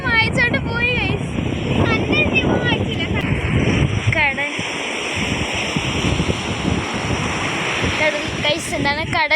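Sea surf rolls onto a beach in the evening as a broad, continuous roar mixed with wind buffeting the microphone, while a voice talks over it in the first half.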